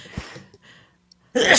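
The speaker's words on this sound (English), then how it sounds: "I'm about to sneeze again" A single loud, explosive sneeze bursts out near the end after a brief quiet pause, preceded by faint murmuring.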